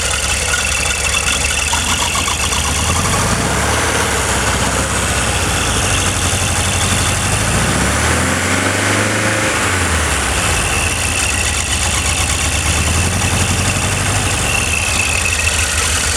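Restored 1965 Porsche 912 engine idling, a steady, rough mid-low rumble that runs continuously and close up, with a brief dip in pitch partway through and no talk.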